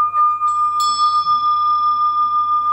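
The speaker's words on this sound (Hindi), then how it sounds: "ये हैंडमेड घंटियां होती हैं, ये भी 7 मेटल की है" A handmade bell cast from seven metals is struck once, giving a bright, sharp ring with clear high overtones that sustain and slowly fade, heard alone at close range.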